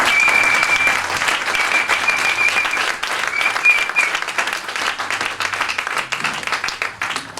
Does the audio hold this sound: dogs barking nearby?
no